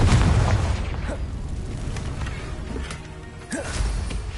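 A Confringo spell blast in Hogwarts Legacy bursts with a loud, booming explosion at the start, followed by rumbling debris and softer magical whooshes that trail off, with another smaller burst near the end.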